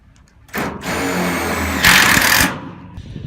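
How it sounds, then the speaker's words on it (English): A tek screw gun drives tek screws into a CA5000 water tank, a loud whirring burst followed by a harsher, higher grinding as the screw bites, then stopping abruptly. "We're going to drill these out."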